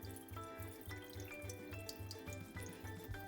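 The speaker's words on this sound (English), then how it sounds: "Now we wash rice." Rice being washed by hand in a pot, water splashing and swishing in a steady rhythm, about a dozen regular swirling pulses, close up, over a continuous running-water background.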